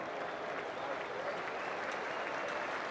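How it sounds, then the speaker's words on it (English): Steady roar of a cricket crowd applauding and cheering after an Australian wicket in the 2013/14 Ashes Second Test against England, a dense, continuous wash of clapping throughout with voices blended in. "Now listen to the crowd. They're into everything."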